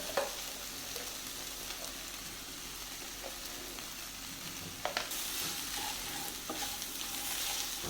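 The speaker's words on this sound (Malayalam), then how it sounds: "ഈ സവാളയൊക്കെ ആയിട്ടേ നല്ലോണം ഒന്ന് ഇളക്കി ഒന്ന് യോജിപ്പിക്കാം" Onions and added spice powder, including coriander powder, get stirred in a pan over a low flame while cooking garlic chicken. A soft, steady sizzle runs throughout, with occasional scrapes and light clinks of the spoon against the pan and no talk.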